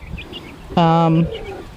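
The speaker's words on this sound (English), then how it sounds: "These guys, these 20 new meat birds that aren't really new anymore, they're almost a month old." A month-old meat bird chick gives a single short, clear call of about half a second over faint background chatter and voices.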